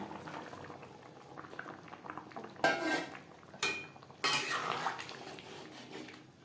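Potatoes and eggs are stirred into simmering chicken biryani gravy in a pot, with bubbling liquid under bursts of metal spoon scraping and clanking against the pot, close and quiet, with no talking.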